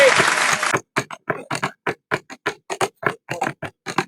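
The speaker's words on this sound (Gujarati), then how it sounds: "તાળીઓ પાડો ભાઈઓ" A short burst of audience clapping at a Gujarati folk performance opens the clip, then quick rhythmic voiced beats follow.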